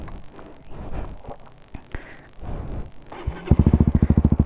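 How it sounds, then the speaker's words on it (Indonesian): A motorcycle engine idles through a long WRX K3 oval aftermarket exhaust, with close, steady, deep rhythmic pulsing in the final second after some handling clatter and rustling. "aku sekarang mau nyoba knalpot dari WRX yang ketiga opal. Dan ya, ini tes suaranya."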